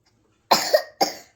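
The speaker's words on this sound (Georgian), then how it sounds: "როგორ ახველებს დედას გოგოს" A young girl coughs twice in close succession, short and harsh, close to the listener in an otherwise quiet room.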